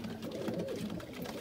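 Sialkoti pigeons coo in a low, rolling murmur, close and steady for just over a second, with no voices alongside.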